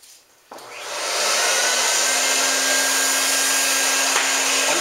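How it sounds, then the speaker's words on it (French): A professional carpet steam-cleaning machine starts with a click and spins up into a loud, steady whining roar that holds constant. "Donc, on va démarrer notre machine."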